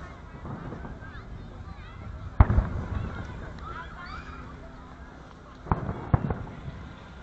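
Fireworks go off during the finale of the Gasparilla Children's Parade beside a bay, with two sharp distant booms followed by crackling, heard over a low outdoor crowd murmur and wind.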